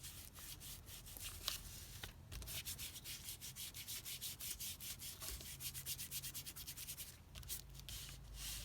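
Soft, steady rubbing of an ink applicator dabbed along the edges of a paper flap on a handmade ephemera pocket, a close, dry scuffing texture repeating in quick strokes with no voices.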